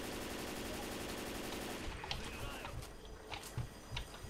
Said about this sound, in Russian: Выстрелил обойму и в камни попал.